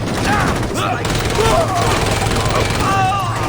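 Dense gunfire from the video game Saints Row crackles in rapid, overlapping bursts over a loud, busy background, with voices shouting in the mix.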